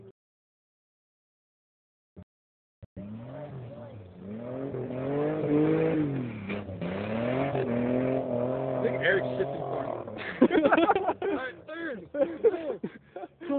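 Pontiac Fiero rally car driving hard on a rally stage, engine note rising and falling through gear changes, starting after a brief silence and followed by choppier revs, with people talking over it.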